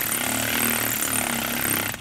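A power tool drives down the bolt of a B and W gooseneck trailer hitch on a 2012 GMC Sierra. It makes a loud, steady motor whine and whir that runs nearly the whole time and eases off at the end.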